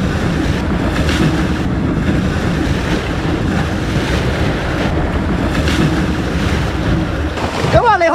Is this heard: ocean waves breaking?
yes